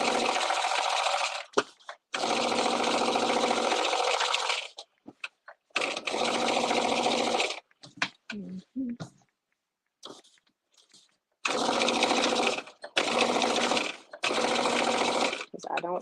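Sewing machine top stitching fabric, running in fast buzzing bursts of several seconds each, separated by quiet pauses and short clicks and handling noises.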